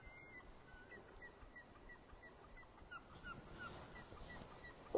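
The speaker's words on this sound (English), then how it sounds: "Lots of nice bird noises today." Faint, distant bird calls, including goose-like honks, repeat at a still pond in Sanquhar in November, with thin ice on the water and a soft outdoor hush underneath.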